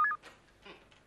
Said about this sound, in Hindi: अरे राजू शूटर को फोन कर रहा हूँ